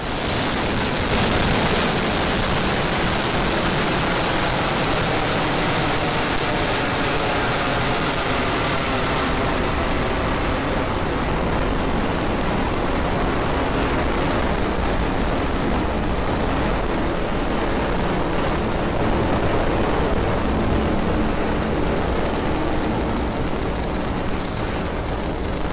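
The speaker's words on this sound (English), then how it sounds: "Falcon 9 has successfully lifted off from pad 40 at Cape Canaveral Air Force Station" SpaceX Falcon 9 rocket lifting off from pad 40 at Cape Canaveral Air Force Station on a Starlink mission, a loud continuous broadband roar that fills the whole stretch without letting up.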